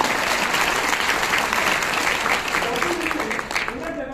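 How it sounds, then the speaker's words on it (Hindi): A crowd applauds for Dr. Lim at an event, steady loud clapping filling the room for several seconds while a voice talks over it. "एक ताली बजाओ डॉक्टर"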